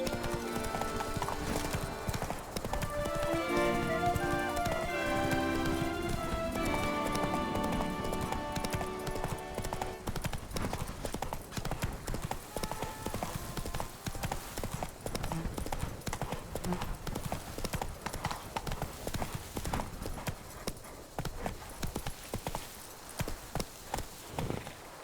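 Horse hooves clip-clop in a steady walking rhythm while riding in The Witcher 3, with music and a brief voice over the first part, and occasional whinnies mixed in.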